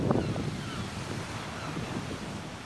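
Sea waves pushed up by a passing tour boat, a steady rushing wash of surf with wind buffeting the microphone, loud at first and then a continuous outdoor roar.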